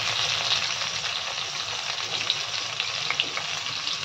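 Chopped onions fry in hot mustard oil with a steady, close, crackling sizzle that holds evenly throughout, with no voices.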